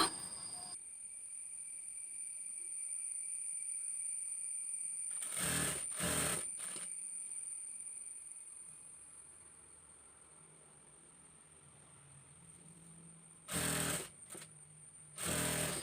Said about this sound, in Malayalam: ഇതുപോലെ താഴേക്ക് സ്റ്റിച്ച് ചെയ്ത് കൊണ്ടുവരിക.